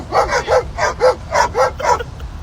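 Two dogs bark in a quick run of about seven sharp, evenly spaced yips and woofs, close and fairly loud, with no talking.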